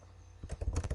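Quick, light keystrokes on a computer keyboard, a short burst of about six close taps in a quiet room.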